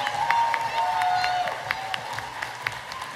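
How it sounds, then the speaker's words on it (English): Audience applause and some cheering for children after an Easter program, a steady wash of clapping with a few sharper claps and a brief whistle, heard from within the crowd at moderate level. "can we just give another big round of applause for these kids?"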